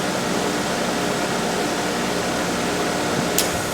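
An air conditioning unit in its defrost cycle gives a steady, loud broadband whoosh of fan and compressor noise, unchanging throughout, with a brief sharp click near the end.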